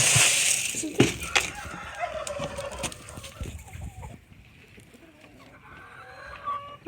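Chickens and chicks on a farm cluck and squawk loudly at close range while being caught, with bursts of flapping and scuffling that ease into quieter, scattered calls toward the end.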